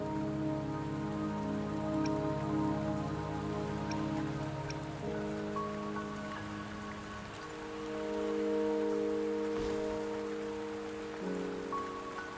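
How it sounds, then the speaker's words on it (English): Steady in-game rain in Wuthering Waves pours across the whole span at a moderate level, a constant wash of drops with a layered musical score sustained underneath. "Don't worry, the rain won't last much longer."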